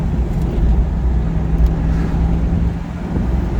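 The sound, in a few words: car rear end whining while driving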